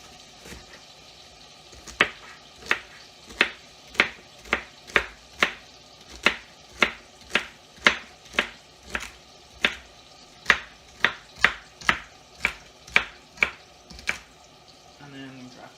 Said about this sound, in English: We'll give that a quick chop.